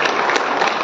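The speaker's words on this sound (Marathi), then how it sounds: "तुम्हाला टाळ्या वाजवायचा असेल तर आंतरराष्ट्रीय आकडा ऐका" A crowded audience at a Voice of Media digital media wing installation ceremony in Barshi bursts into dense, steady applause, with many hands clapping at once and no pause through the brief moment.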